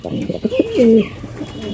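Nearby Beauty Homa pigeons make a short burst of throaty cooing, with one drawn-out warbling coo in the middle and quieter murmurs around it.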